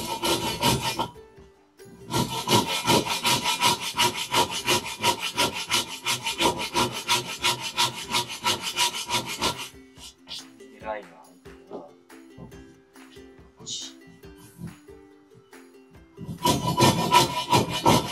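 A Ryoba double-edged saw cuts wood for a dovetail joint. Fast, close, rhythmic rasping strokes come in long bursts, then pause while someone speaks, and the sawing starts again at the end.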